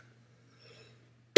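A single sharp, loud cough bursts in at the very end after near silence, close to the mic, with no talking around it.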